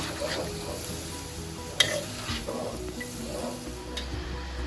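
Spring roll filling of cabbage seasoned with light soy sauce is stir-fried in a pan, giving a steady close sizzle with scraping stirs and one sharp clack of utensil on pan.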